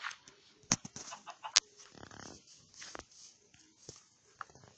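Short chicken clucks and squawks pop up intermittently over a busy, low-level background of soft game sounds in Minecraft, with a few sharp louder bursts.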